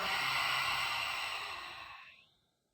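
One long, soft exhalation during a postpartum pelvic tilt exercise, a breathy sigh close by that fades out over about two seconds with no talking.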